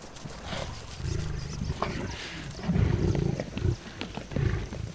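Lions roar and growl during a group hunt on a zebra, with deep rumbling roars that swell and fade over a wild outdoor background, loud and close, with no talking.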